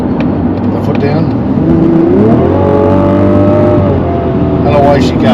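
A Mazda CX-80 SUV accelerates hard to overtake, its engine note climbing steadily in pitch as it pulls away, a loud continuous drone heard from inside the cabin.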